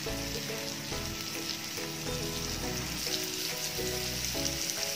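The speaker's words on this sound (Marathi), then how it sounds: "पुन्हा दुसऱ्या बाजूला पण छान पाच मिनटं शेकून घ्यायचं आहे" Stuffed bitter gourd filled with fresh coconut pan-roasts over a medium gas flame, with a constant, even sizzle close by and soft melodic music underneath.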